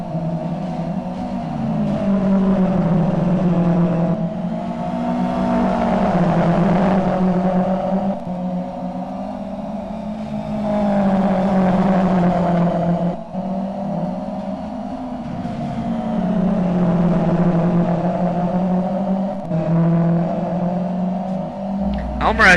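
Touring cars in the 2009 iCON Touring Car Championship race around the track, engines rising and falling in waves as they pass, under continuous commentary.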